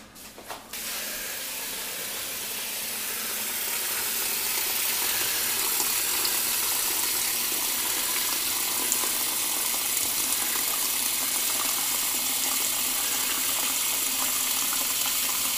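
Steady tap water runs into a sink for rinsing while making gefilte fish, a continuous broadband rush that begins abruptly and holds loud and close with no talk.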